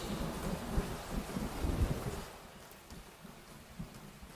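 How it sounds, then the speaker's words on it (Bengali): Rain falls steadily as a soft, even wash of noise, with low rumbling gusts of wind or distant thunder swelling in the first half and then easing off. "বৃষ্টি এখনো চলছে।"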